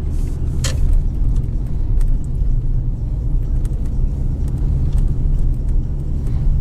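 Lada Granta 2020 with automatic transmission driving on slippery first snow, a steady loud road rumble and engine drone filling the whole stretch without letup, with faint clicks and rattles on top and no talking.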